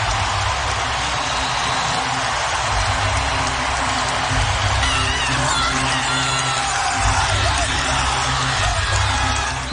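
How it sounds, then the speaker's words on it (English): A basketball arena crowd at a Big Ten women's game between Iowa and Indiana cheers loudly and steadily, a dense roar with whoops and shouts sustained throughout. "And listen to this crowd."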